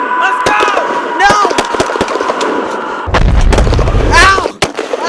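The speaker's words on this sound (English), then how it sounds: "I'm being shot at from afar." Battlefield gunfire from the Battle of the Somme, loud repeated gunshots and artillery blasts cracking close and far, with distant booms rumbling under them and voices shouting in between.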